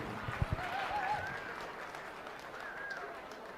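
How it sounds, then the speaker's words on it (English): Scattered applause rises from a crowd at a county fair swine showmanship class, soft and distant with a few sharper claps early, under a busy, murmuring hall ambience. "Let's have a round of applause for our Class 3 Intermediate Division."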